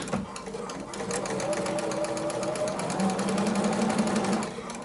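A sewing machine stitches a two-color Dresden Plate blade folded right sides together, running steadily at close range for the whole stretch, with a busy mechanical hum and rapid needle chatter.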